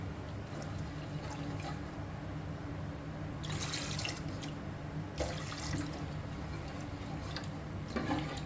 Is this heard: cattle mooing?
no